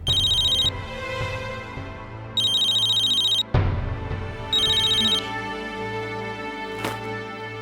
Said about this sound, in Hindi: मेरा नहीं, निशी का फोन बज रहा है।